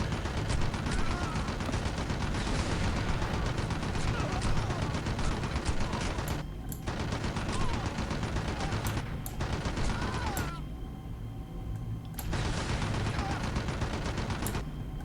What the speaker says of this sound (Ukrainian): та не стріляйте по мені